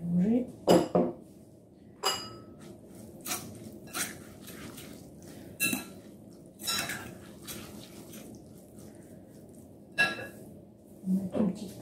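A spoon mixes tabbouleh ingredients in a bowl, with scattered clinks and knocks of the spoon against the bowl in irregular bursts, close but fairly quiet, separated by short near-silent pauses.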